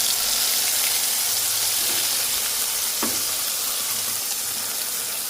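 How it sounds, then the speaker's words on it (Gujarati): Green pea paste with cumin and turmeric fries in hot oil, giving a steady, loud, close sizzle throughout, with one brief sharp crackle partway through. "અને હવે આપણે અહીંયા બનાવેલી વટાણાની પેસ્ટ ઉમેરી દઈશું."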